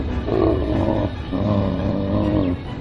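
Cartoon lion, the king of the jungle caught hanging in a hunter's net, lets out a loud, deep, rumbling roar in two long surges close up, with no talking over it.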